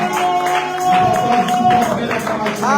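Congregation clapping and cheering during a French-language church service, lively hand claps and shouts heard under a sustained sung or spoken voice, with the crowd swelling midway.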